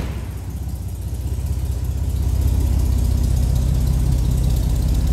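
A 1954 Chevrolet Bel Air inline six idles with a steady low rumble close by, its loping pulse swelling slightly in loudness after the first couple of seconds, with no talking.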